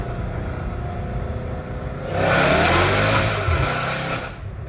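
A Dodge Challenger Hellcat Redeye engine revs hard through second gear, rising loud and strained with a broad roaring exhaust that swells midway and holds before easing off.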